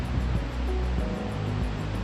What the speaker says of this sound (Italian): dove la cascata Cismon scende sfiorando la diga costruita nel